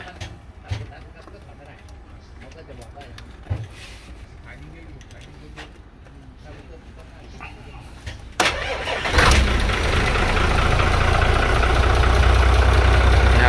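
After people talk over faint clicks and quiet, an intercity bus on the Ratchasima–Chok Chai route, just refuelled after running low on fuel at night, cranks and fires, then runs as a loud, steady, close engine roar.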